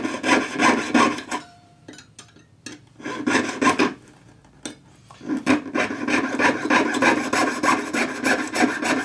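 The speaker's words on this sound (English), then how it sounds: "So we're going to saw this off now." Jeweller's saw cutting through a silver shilling coin braced against a bench peg, a close rhythmic rasping of quick strokes in two runs separated by a brief pause, with nothing else heard.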